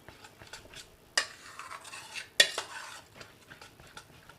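Semolina and soaked leftover rice (panta bhat) batter for dhokla being stirred in a bowl, with two sharp scraping strokes followed by soft rubbing swirls of the spoon, close and fairly quiet.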